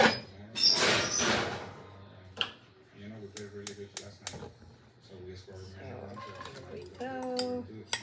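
A cast iron skillet is shifted on a kitchen stove, giving a brief metallic clatter followed by a few scattered light clanks and ticks. A person talks quietly around the clatter.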